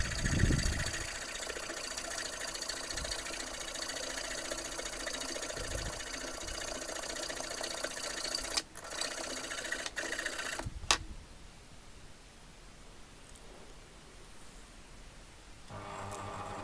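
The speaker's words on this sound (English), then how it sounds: "We're just going to mark that up, approximately that 18 centimeters, and we'll cut away." A power tool cuts through a length of 3/8 inch threaded rod with a steady, close, grinding-buzz drone for about eleven seconds, a couple of brief interruptions, then a quieter hum before it starts up again; no talking.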